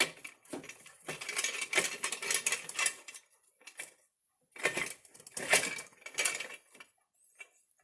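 A metal nut drops onto a hard surface during assembly of a rock crusher, giving bright clattering metallic bounces in two bursts with quiet gaps between.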